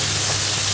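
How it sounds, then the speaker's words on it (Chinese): Ginger and garlic sizzle in hot oil in a wok, a loud, close, steady frying hiss with no break over the brief moment. "倒油啊，姜蒜爆香"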